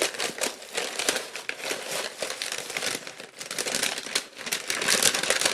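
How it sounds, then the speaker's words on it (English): Holiday gift wrapping on a Julep nail polish introductory box being torn and unwrapped, a steady close crinkling and crumpling of paper and plastic that carries on continuously without talk. "So this is an unveiling or unpackaging of the box."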